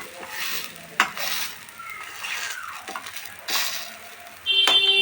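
A vegetable pancake fries in a pan with very little oil, giving a soft, steady sizzle broken by a few utensil clicks and scrapes, with a brief louder clatter near the end.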